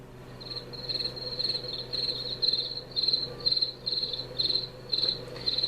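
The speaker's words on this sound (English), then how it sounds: "this is crickets." Cricket chirps from a white noise sleep machine turned all the way up, a steady shrill trill pulsing in regular bursts about twice a second over a low hum.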